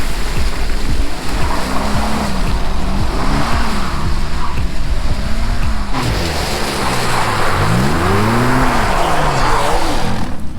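A car slides sideways on a wet skid pan, its engine revving up and down in repeated swells over a loud, constant roar of spray and road noise.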